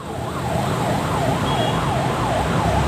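An ambulance siren wails steadily, rising and falling in a regular repeating sweep over a continuous low road rumble, loud and close throughout.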